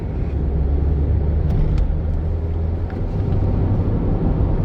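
A Honda Jazz is thrown hard into a roundabout, a steady low engine rumble and road noise heard from inside the car, with a few faint ticks and light tyre sounds over the drone.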